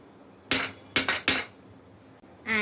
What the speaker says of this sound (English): mix it very well